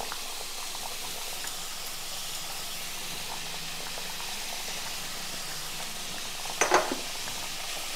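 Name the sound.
curry ingredients frying in a pan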